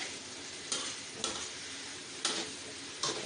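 Diced potatoes and finely chopped aromatics sauté in a pan with a steady soft sizzle, broken by four sharp scrapes of a spatula stirring at regular intervals, fairly quiet and close.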